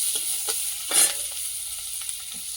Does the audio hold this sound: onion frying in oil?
yes